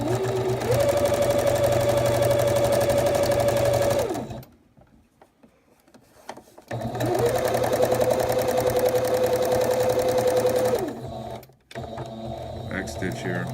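A sewing machine stitches quilt fabric for a pinwheel quilt in two steady runs of several seconds each, the motor whirring evenly and close, separated by a quiet pause with light handling noise.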